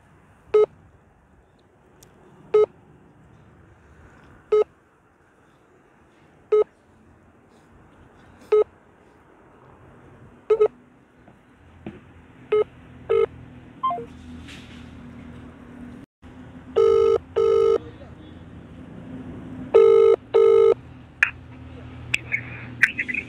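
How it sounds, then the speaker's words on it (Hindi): A phone call is redialed after dropping: evenly spaced short beeps repeat every couple of seconds, then quicker beeps and dial tones and ringback bursts follow, clear and close with faint background noise. "फ़ोन कट गया है एक बार और से लगाते हैं फिर से"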